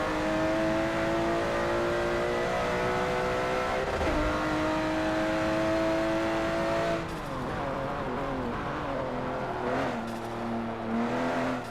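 A race car in Forza Motorsport 7 heard from the in-car view, its engine holding a loud steady drone, then dipping and climbing through gear changes and revs, with faint tire noise.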